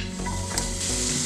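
Onion dropped into a little hot oil in a cazuela for nopales, a close crackling sizzle with soft stirring scrapes, no talk.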